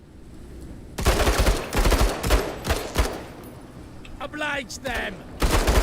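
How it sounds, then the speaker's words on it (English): Battle rifle gunfire from the tactical video game Menace, a run of loud, sharp shots and bursts cracking one after another, with a voice briefly speaking between volleys. "shoot it twice with the battle rifle"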